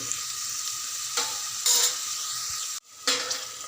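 Sliced onions with green chillies and curry leaves sizzle in a pan, close and steady, with a few short stirring scrapes and a brief break in the hiss.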